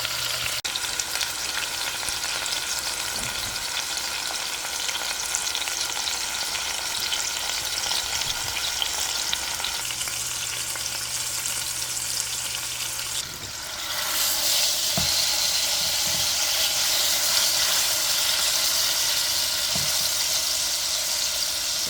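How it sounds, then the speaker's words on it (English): Beef pot roast sears in a hot pan with a loud, continuous sizzle and crackle, up close. The hiss swells louder partway through as the meat is turned, with faint clinks now and then and no talking. "So I'm gonna keep turning it until it's kind of brown on all sides"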